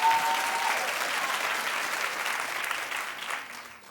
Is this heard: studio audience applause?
yes